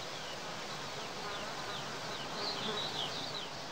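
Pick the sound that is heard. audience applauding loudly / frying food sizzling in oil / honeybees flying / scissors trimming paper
honeybees flying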